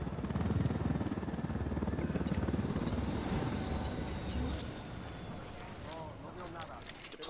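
Helicopter rotors in the video game Ghost Recon Wildlands give a loud, steady chopping drone that fades slightly toward the end.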